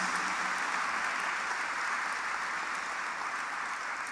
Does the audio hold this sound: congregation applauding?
yes